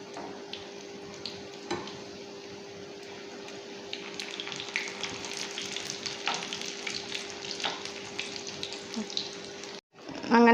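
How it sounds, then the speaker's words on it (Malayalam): Cheese sticks deep-fry in hot oil with a continuous close sizzle and crackle. Brief scrapes and handling noises break in, and the sizzle cuts out near the end. "അങ്ങനെ നമ്മുടെ ചീസ് സ്റ്റിക്സ് എല്ലാം ഞാൻ ഫ്രൈ ചെയ്തെടുത്തിട്ടുണ്ട്."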